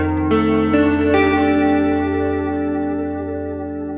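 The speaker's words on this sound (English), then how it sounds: "You get a pretty nice chorus. We'll reduce it further and bring up some repeats." Chorus effect with rising delay repeats from a Strymon TimeLine MX pedal on a sustained electric guitar chord, new notes entering in the first second then a shimmering, modulated wash slowly decaying alone.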